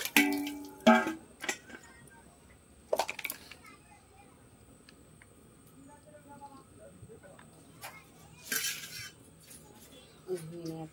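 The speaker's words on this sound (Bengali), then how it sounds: "ধুয়ে নেওয়ার পরে আমি ঢেঁড়সটাকে কাটছি।" A knife chops washed okra on a board, making sharp clacks and taps in separate bursts with quieter scraping in between. A voice talks softly in the background.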